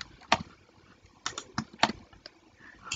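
Light, irregular keystrokes on a computer keyboard while entering a code into accounting software, a handful of soft clicks in quick bursts, faint and close.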